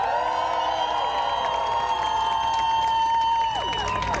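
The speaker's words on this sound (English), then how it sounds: "let's give a round of applause to ZSU" A rally crowd in New York cheers and whoops loudly and continuously, with sustained tonal calls ringing above the mass of voices and no pause before fading slightly near the end.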